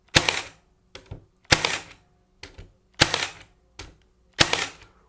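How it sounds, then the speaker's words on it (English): A Milwaukee M18 Fuel 18-gauge cordless brad nailer firing into MDF trim, four sharp close shots evenly spaced, each followed by a quieter mechanical clack as the driver resets. "So starting off with the 18-gauge nailer, here's a few shots in the MDF trim."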